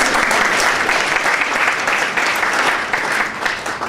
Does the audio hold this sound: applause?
yes